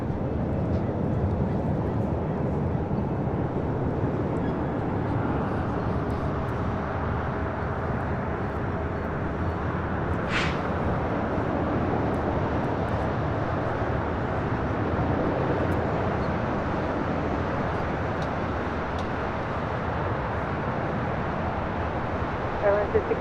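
Jet airliners arriving and departing at LAX airport rumble continuously and steadily at a distance, with a broad, even roar and a brief higher whine partway through.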